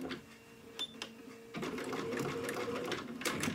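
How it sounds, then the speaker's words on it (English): Sewing machine running a few short tacking stitches, starting with brief clicks and then whirring steadily and fairly close for a couple of seconds, with no talking. "I'm not even going to hardly move my machine. I'm just going to let it do a couple of stitches"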